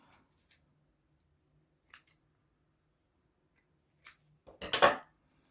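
Scissors snip a crochet yarn tail, with a few faint light clicks first and then one louder, crisp cut near the end, close up in an otherwise quiet room.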